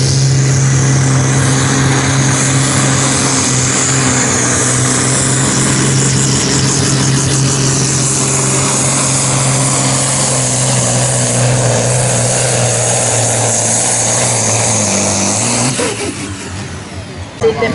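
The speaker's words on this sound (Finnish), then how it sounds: "pikkuhiljaa hän nostelee kierroksia tästä Supersport 3600 luokan traktorilla" Supersport 3600 class pulling tractor built on a Ford drivetrain, engine loud and close, revving gradually higher in a long sustained roar before dropping off near the end, at a farmsport pulling event.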